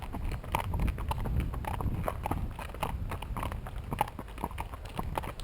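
Steady clip-clop of horse hooves on a hard surface, a regular walking rhythm of many close, sharp strikes over low background rumble.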